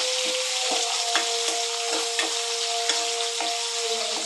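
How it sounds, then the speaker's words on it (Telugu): Thinly sliced onions frying in a pan give a steady, close sizzle with regular soft spatula strokes every half second or so and a faint constant hum underneath; no one speaks. "తర్వాత ఆనియన్స్ వేస్తున్నాను. సన్నగా తరుపుకోవాలండి, లావుగా చేసుకోవద్దండి."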